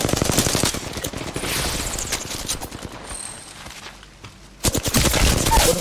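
Bursts of rapid gunfire in Apex Legends, loud and close, stopping for a quieter moment and then returning in a heavy volley; no talking.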